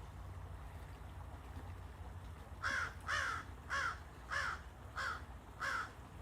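After a quiet stretch of low ambient noise by Fountain Creek, a crow caws six times in an even, rhythmic series, each call loud, hoarse and close.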